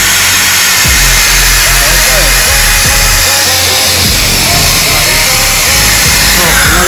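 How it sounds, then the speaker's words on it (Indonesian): A power drill works on a motorcycle part, a loud whirring motor with pitch sweeps as it spins up and slows, close and continuous under background noise. "Mari kita bor."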